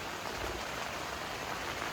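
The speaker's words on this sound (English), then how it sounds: "we've been out here 8, 10, 12 hours in the non-stop rain. Really heavy at times" Heavy rain hammers steadily on a cabin tent in a dense, unbroken hiss that stays even in level the whole time, close and with no voices.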